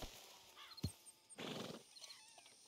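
A horse in Red Dead Redemption 2 gives a short whinny and snort, quiet and close, with a few soft hoof sounds around it and no talk.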